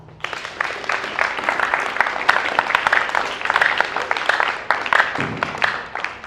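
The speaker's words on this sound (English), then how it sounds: "applause." Applause from a gathered audience, a dense, continuous crackle of clapping held for several seconds at a fairly close, even level.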